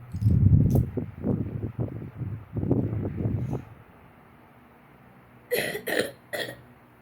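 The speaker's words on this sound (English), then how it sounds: "Sorry for coughing" A few close coughs and throat sounds early on, then a pause before a short cluster of sharp bursts near the end.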